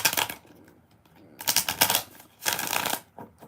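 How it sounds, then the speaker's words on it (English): Tarot cards being shuffled by hand, new and stiff, in three quick riffling bursts separated by brief pauses, close and crisp with no talk. "I'm just trying to shuffle them good because they just feel like they're being like new cards"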